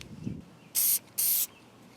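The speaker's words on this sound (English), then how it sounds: "I used spray adhesive to hold the liner down" Spray adhesive hisses out of an aerosol can in two short bursts, applied to hold a velvet liner inside a sword scabbard. Each spray is close and sharp, with a quiet soft knock just before the first.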